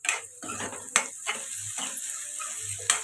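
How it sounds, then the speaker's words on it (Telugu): Onions frying in oil in a pan, a steady close sizzle with a few sharp clinks of a spoon against the pan. "ఉల్లిపాయలు ఇలా ఫ్రై అవుతుంది కదండి"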